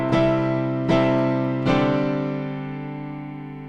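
A piano plays three ringing chords from a song, each struck about a second apart and left to decay slowly, with no talking.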